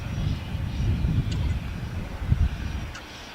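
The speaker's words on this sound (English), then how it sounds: "we have Virgin Atlantic Flight 141 coming in from London Heathrow on a 787-9 Dream" Virgin Atlantic Boeing 787-9 on final approach to runway 25 at LAX, a steady low jet rumble with wind noise. It is moderately loud and sustained throughout, with no talk.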